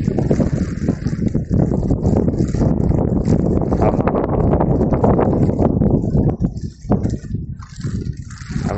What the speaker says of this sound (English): Oh, it's very windy though.